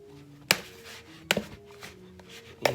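Bread dough for a honey white artisan loaf is mixed in a bowl using the end of a stiff handle, giving three sharp knocking thumps against the bowl with soft scraping between, no talk.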